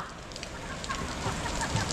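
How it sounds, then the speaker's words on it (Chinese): Rain falls steadily in a Beijing courtyard during a heavy storm, a dense, even patter on surfaces that carries on for the whole two seconds, with a faint voice briefly audible underneath. "这雨下得太及时了，这都不用养护了啊"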